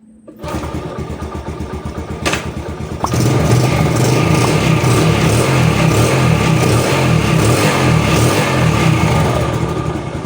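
A Yamaha Jupiter Z motorcycle that has been hard to start in the morning cranks briefly, catches and settles into a loud, close, steady idle with a rapid even throb, no voices over it.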